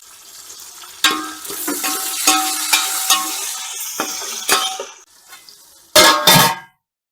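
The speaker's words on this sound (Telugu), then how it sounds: "ఇప్పుడు ఉల్లిపాయలు యాడ్ చేసుకోండి ఉల్లిపాయలు చక్కగా గోల్డెన్ బ్రౌన్ వచ్చేదాకా వేగన ఇవ్వాలన్నమాట" Onions fry toward golden brown with bay leaves in a pot for veg biryani, giving a close sizzle with scraping stirs and clanks of the pan. Near the end comes a louder burst of sizzle, then quiet.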